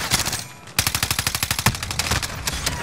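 A PPSh submachine gun fires in Call of Duty on Rebirth Island in two rapid full-auto bursts of close, loud, evenly spaced shots with a brief gap between them, and there is no talking.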